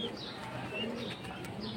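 Faint pigeon coos and light chirps in a loft of high-flying pigeons, soft and somewhat distant over a low background hum.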